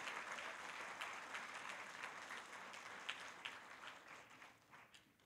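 A crowd applauding warmly at an awards ceremony, sustained clapping that gradually thins and fades toward the end.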